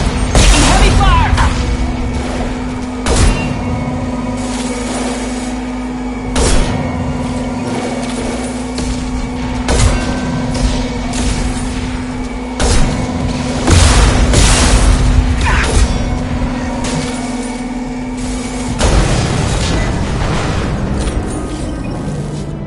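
Heavy combat in Mass Effect Legendary Edition, with repeated loud booms, blasts and gunfire bursts over a constant mechanical hum, and voices shouting at times.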